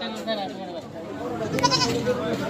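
Goats bleating at a busy cattle market, several short calls rising over constant crowd chatter and nearby talking throughout.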